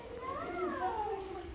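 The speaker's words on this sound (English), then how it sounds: "Is that kitten?" A kitten at a farm park gives a single drawn-out meow, rising then falling, close and clear over quiet outdoor background.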